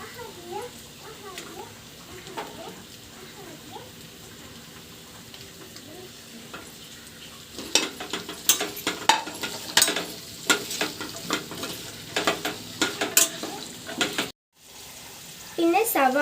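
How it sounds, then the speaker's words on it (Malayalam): Carrots and potatoes sizzle softly in a hot pan for a vegetable pulao, then a spoon begins stirring, scraping and clinking against the pan in quick, repeated strokes. The sound drops out for a moment before returning. "ആദ്യം ക്യാരറ്റും ഉരുളക്കിഴങ്ങും ചേർത്തിളക്കുക."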